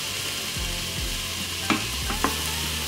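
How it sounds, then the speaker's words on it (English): Onion and garlic sautéing in an Instant Pot for butternut squash soup, a constant close sizzle with a couple of brief spoon stirs and scrapes, no talking. "We're just cooking down the onion just to get some more of that concentrated flavor."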